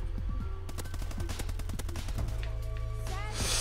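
Rapid automatic gunfire from a first-person shooter video game, a dense burst of sharp shots filling most of the moment, with loud game effects around it.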